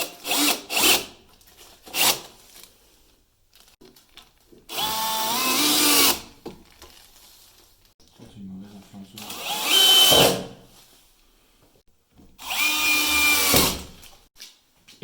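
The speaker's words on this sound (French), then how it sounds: "Et donc là, Chris, il va les visser sur la planche pour réaliser un banc." Power drill driving screws into a wooden plank to build a bench in a home renovation: several loud bursts of whirring, each a second or two long, with short pauses and speech between them.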